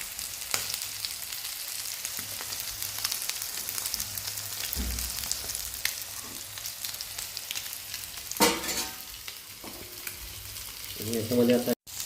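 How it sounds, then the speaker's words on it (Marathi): Nearly done fish sizzles steadily in hot oil in a pan, a close, constant crackle with scattered pops and a few utensil clinks toward the end. "आता पूर्णपणे फ्राय होत आला आहे"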